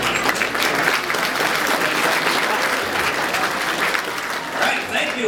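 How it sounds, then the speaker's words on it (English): An audience at a political speech during a candidate's 2012 Super Tuesday event applauds, producing sustained, dense clapping that stays loud throughout. "Give him a round of applause."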